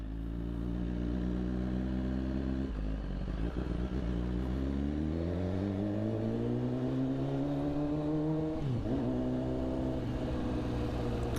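A BMW S1000RR sport motorcycle being ridden, its engine droning steadily and rising in pitch as it accelerates through the gears, with a brief dip in revs near the end; loud and close throughout, with no talking.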